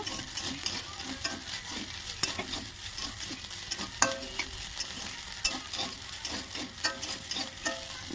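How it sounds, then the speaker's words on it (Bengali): Soybean chunks fry in hot oil in a pan, a soft continuous sizzle broken by irregular scrapes and taps of a spatula turning them, fairly close and moderately quiet. "সবিনটা এবার অনেকটাই প্রায় লাল হয়েই এসেছে আর একটু ভালো করে ভেজে নিই"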